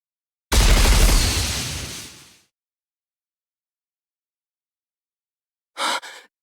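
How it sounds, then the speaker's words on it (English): In the anime-style shooter game Goddess of Victory: Nikke, a loud, deep explosion booms and decays over about two seconds, followed after a silence by a brief, sharp burst. "It exploded from the inside?"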